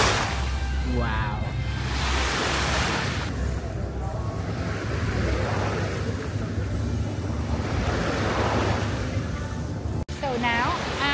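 Waves wash in at the beach on Phi Phi Island, a broad rushing surf mixed with wind noise buffeting the microphone, with people talking over it at times.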